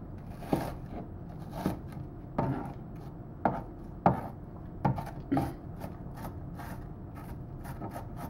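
A knife chops an onion into small pieces on a board, about a dozen crisp, irregular thuds spaced through the stretch, close and moderately quiet, with faint knocking between cuts and no talk.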